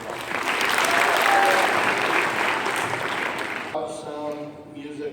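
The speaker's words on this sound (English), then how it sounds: "we want to give them a big round of applause" Audience applause at a school awards ceremony, a dense burst of clapping that swells and then fades out after about four seconds, followed by a voice speaking.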